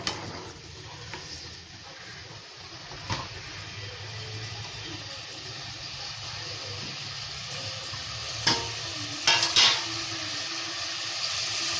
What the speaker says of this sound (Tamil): போட்டு வதக்கிக்கலாம்.